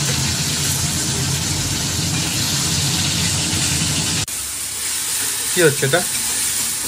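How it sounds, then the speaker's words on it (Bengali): Fish frying in a pan at a home cooking session, a steady broadband sizzle filling the first four seconds, then a softer hiss with a brief voice and a short whistling tone near the end. "এই যে মাছ ভাজা স্টার্ট হলো"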